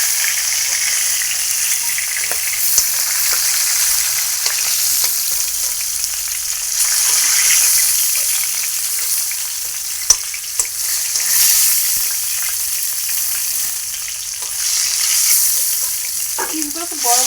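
Chicken pieces frying in oil in a pan for biryani, a loud, dense, continuous sizzle with a few clinks of the spatula and a brief sound of movement at the end, close up.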